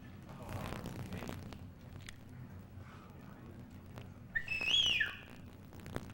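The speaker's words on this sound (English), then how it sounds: "I need your whistle, Dietrich." A whistle is blown once, loud and close, with a short rising-and-falling tone in a conference hall to quiet the audience, heard over the murmur of a crowd settling down.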